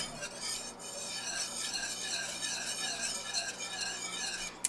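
A metal whisk scrapes and rattles continuously against the inside of a pot while whisking flour, a steady squeaky scratching with a sharp clink at the end.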